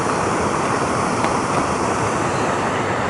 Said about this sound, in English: We just cross this river, we'll be alright.